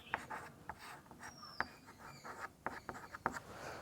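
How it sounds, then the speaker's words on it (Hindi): Chalk taps and scratches across a classroom board during a Class 10 maths lesson on triangles, in short, uneven strokes that are soft and close, with no talking. "ये चीज़ें लिखेंगे"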